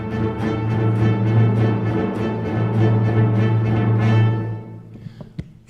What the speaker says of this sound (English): it's played very strongly by all these cellos and basses and drums and trumpets.